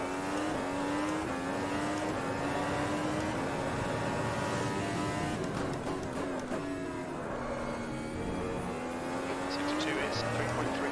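A Formula Ultimate 2017 racing car engine in the Automobilista racing video game at Interlagos whines steadily, pitch rising and dropping with gear changes, with talking over it throughout.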